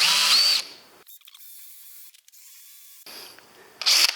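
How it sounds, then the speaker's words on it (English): A power drill boring into wood while a camper van kitchen frame is built, whining loudly in a short burst, falling quiet for a few seconds, then whirring again briefly at close range. "keep the drill nice and straight"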